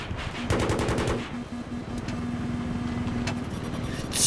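Battlefield 3 combat: a quick burst of automatic rifle fire up close, then a steady hum of a vehicle engine with sporadic distant shots and a beeping tone in the background.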